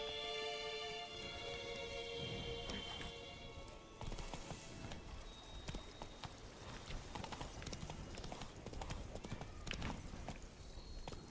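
Geralt's horse Roach galloping in The Witcher 3, quick thudding hoofbeats in a steady rhythm over rainy ambience and faint music, fairly quiet and continuous.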